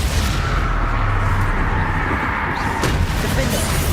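A Confringo explosive spell in Hogwarts Legacy bursts amid combat, a loud, steady low rumble with crackling gunfire-like snaps and a sharp hit near the three-second mark.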